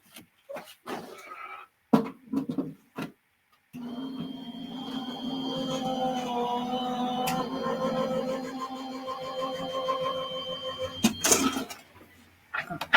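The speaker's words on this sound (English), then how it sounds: "I'm just going to use my Anna Griffin Empress machine." An Anna Griffin Empress die-cutting machine running while making a card: after some short clicks and knocks, a steady mechanical motor hum and grinding roll lasts about seven seconds, then ends with a few clunks.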